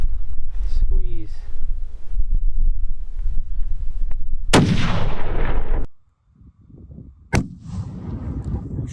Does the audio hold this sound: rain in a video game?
no